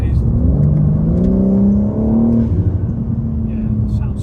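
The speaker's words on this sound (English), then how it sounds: "Oh, you can notice the intake massively." A BMW G80 M3 accelerates with loud intake roar and a rising engine pitch that then settles, heard from inside the car while people talk over it.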